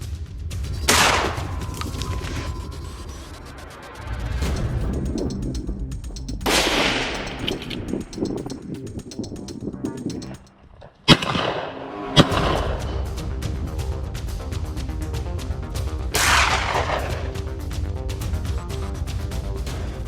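Gunfire from a boar hunt in the rugged mountains of Turkey: several sharp, loud shots spread across the span, each ringing out with echoing reports, plus a couple of close metallic clicks.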